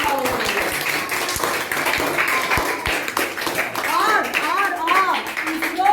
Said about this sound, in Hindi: तो हमारे भारत देश के इस महत्वपूर्ण कामगिरी के लिए जोरदार तालियां बजाओ।